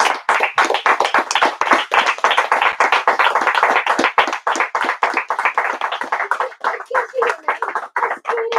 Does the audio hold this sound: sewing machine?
no